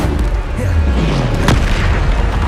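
A Bombarda spell explodes in the video game Hogwarts Legacy, a loud booming blast with a descending whoosh amid dense, continuous game noise and a talking voice.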